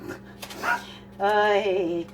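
A dog barks and whines nearby, a short yip followed by a longer drawn-out whimpering bark.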